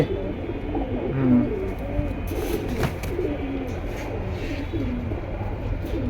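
Pigeons at a pigeon market coo in repeated low, throaty phrases over a bustling background of people talking and general market noise, fairly close and clear.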